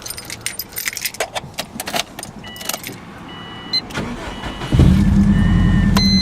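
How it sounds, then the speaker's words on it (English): Keys jangle and click for several seconds, then a hot car engine cranks and catches, settling into a steady, close idle. "This will be a hot idle here."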